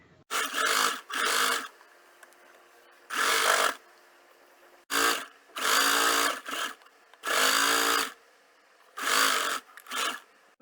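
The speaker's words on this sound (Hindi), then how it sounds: "अब इसकी स्टिचिंग करेंगे" A sewing machine stitching a cloth bag with a pocket at home runs in repeated short bursts of rapid whirring, about eight runs with brief silent pauses between, close and clear.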